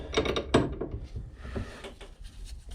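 A spanner loosens a part on a Peugeot 205 GTi Mi16 project car, with soft metallic clunks and ratcheting clicks against a low, muffled garage background.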